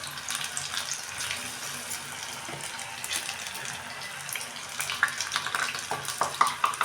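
Sweet corn pakoda fry in hot oil, a dense bubbling sizzle heard close and steady, with sharper crackles and pops building toward the end.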